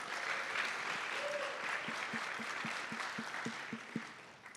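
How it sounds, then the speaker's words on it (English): Applause from a conference audience at a mobility event, fairly faint and distant, a steady patter of many hands with a few sharper claps standing out near the end. "let's also get a round of applause for them"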